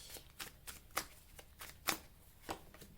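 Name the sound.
shuffling tarot cards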